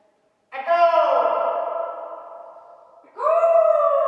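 A shouted voice rings out inside an empty Quonset hut building, its harmonic tone hanging and slowly decaying in a long reverberant tail before a second loud shout starts, both strong and close.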